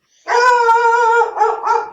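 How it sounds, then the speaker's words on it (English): A pet dog gives a loud, close, drawn-out bark-howl, followed by a couple of shorter yelping barks, clear against an otherwise quiet room. "And my dog Blue says hello, so I'll have to take a moment and talk to her."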